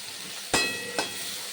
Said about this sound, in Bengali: চিংড়ি মাছগুলো ভাজা হয়ে গেছে, এর থেকে বেশি ভাজার আর দরকার নেই।